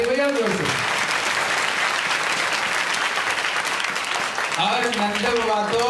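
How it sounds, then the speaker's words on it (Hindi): A crowd at a Bhagwat Katha religious gathering in Faridabad claps loudly and continuously. A voice is heard briefly at the start and again at the end over the sustained applause. "ताली बजाओ जोर से।"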